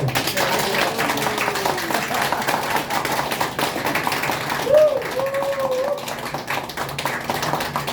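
Audience applause at a memorial singing contest greets the head of a national actors' association, a sustained patter of clapping from a modest crowd, with voices heard over it.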